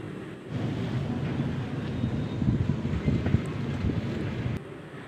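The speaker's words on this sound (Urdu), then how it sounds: "دیکھیں کیسے تیز ہوائیں چل رہی ہیں" Strong wind gusting outdoors on a cooking vlog, a steady low roaring rush with buffeting against the microphone that continues unbroken for several seconds, with no talking.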